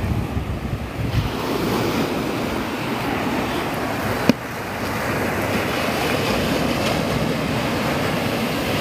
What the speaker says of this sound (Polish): Chyba czekają na jakąś fajną falę.